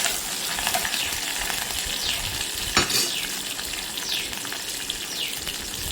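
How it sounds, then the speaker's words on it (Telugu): Mustard seeds, cumin, dried red chillies, curry leaves and a pinch of asafoetida sizzle and crackle steadily in hot oil, with a constant close frying hiss and occasional sharper pops. "వేగుతుంది కదండి, ఇంగువ వేస్తున్నాను కొద్దిగా"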